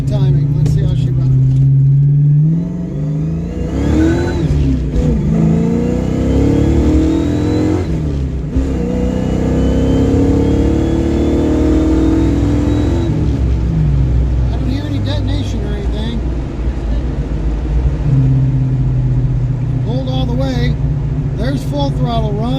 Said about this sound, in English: There's full throttle run.